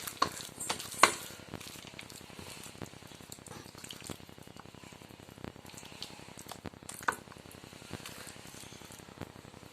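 Chicken lollipop marinade with garam masala and squeezed lemon being mixed by hand: a continuous soft, wet, crackling squelch with a few louder slaps near the start and later, close and quiet.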